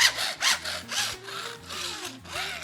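Wood cut with a hand saw in steady back-and-forth strokes, about six rasping passes with a regular rhythm, close and clear with no talking.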